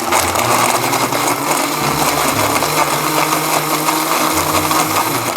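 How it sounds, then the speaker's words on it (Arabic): A blender crushes ice, roaring continuously at full power, a dense, loud grinding whir with rattling texture throughout, no pauses. "انا بخاف من صوت التلج في الخلاط"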